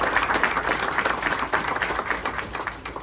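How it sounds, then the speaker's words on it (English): Crowd at a MotoAmerica Ducati party and race team event in Austin, Texas claps in a dense, lively burst of many hands, fairly close and steady throughout. "Big round of applause."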